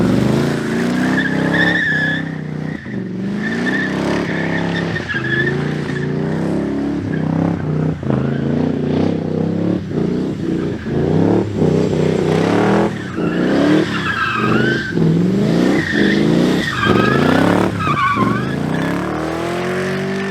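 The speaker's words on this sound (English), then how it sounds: "I'll probably put a small clip of me drifting it here" A Lincoln Mark 8 with a 4-valve engine swap drifting, its tires squealing in long repeated wails over a steady engine roar that rises and falls with the throttle, loud and close, with no talking.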